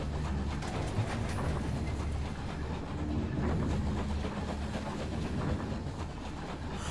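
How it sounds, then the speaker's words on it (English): A train rolls along steadily in the video game Night in the Woods, a continuous low rumble with faint rhythmic clatter and occasional bird-like chirps over it. "Oh no, we're in a train."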